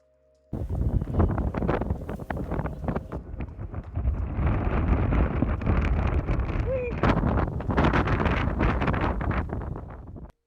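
Strong wind roars steadily into the microphone on a windy mountain hike to a hilltop pillbox in Hawaii, loud buffeting gusts filling nearly the whole stretch without pause.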